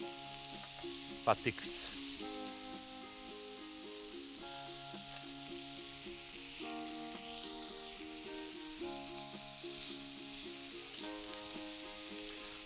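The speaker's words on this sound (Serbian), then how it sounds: "Sve to dok se prži." Zucchini and chicken with smoked cheese frying in a pan, a steady soft sizzle running beneath background music, with a brief spoken remark near the start.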